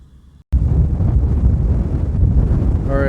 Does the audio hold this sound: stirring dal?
no